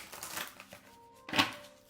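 Brief papery shuffling and riffling of cards, close and fairly quiet, with a sharper flurry near the end.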